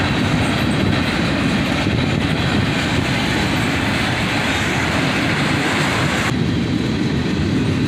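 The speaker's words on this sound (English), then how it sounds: "another monster manifest that just kept going and going" Long freight manifest train rolling past nearby, a loud steady roar with continuous clickety-clack of wheels over rail joints and no break in the passing cars.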